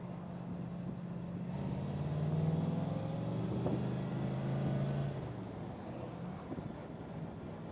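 Engine of a 1961 Corvette driving on the road, a steady low drone that swells around the middle with harmonic tones shifting as gears change, then eases back under light wind noise.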